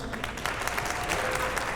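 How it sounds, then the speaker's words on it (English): Audience applause for a student arts production, a steady wash of many hands clapping at a moderate distance, sustained without a break for just under two seconds. "So put your hands together for applauding the arts within the artists."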